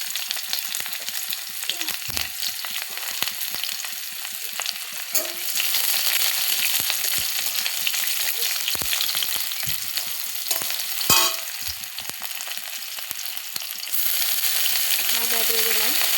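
Onions frying in hot oil with dried chilli, bay leaf and cumin for a masoor dal, a loud continuous close sizzle with scattered scraping of stirring and brief knocks, the hiss growing stronger partway through.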